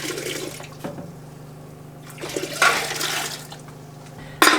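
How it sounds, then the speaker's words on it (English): Reserved water is poured back into a hot water bath canner, a steady splashing, gurgling pour that swells in the middle and ends with a sharp splash, close and alone. "I just put it right back into the hot water bath canner."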